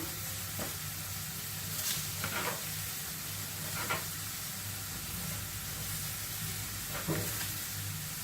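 A burger steak fries in a hot pan, giving a continuous low sizzle and hiss with a few soft scrapes and clatters, quiet and steady without speech.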